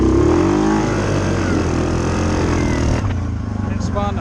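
A Suzuki KingQuad 750 ATV engine roars loudly and steadily as its wheels spin on dewy, tall wet grass in the evening, then drops off abruptly near the end.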